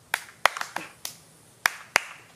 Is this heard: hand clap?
yes